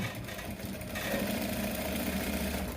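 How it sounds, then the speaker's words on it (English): A sewing machine stitches stretchy fabric for a man's senator top, its steady motor whirring in a continuous drone that strengthens after about a second. No voices are heard. "So you arrange it properly and then start stitching."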